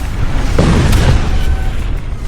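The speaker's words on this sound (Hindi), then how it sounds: "तेहरान में मेहराबाद एयरपोर्ट के पास धमाके" Explosions near Mehrabad Airport in Tehran come through as a loud, continuous low roar with a muffled deep boom rising out of it, rough and distant-sounding.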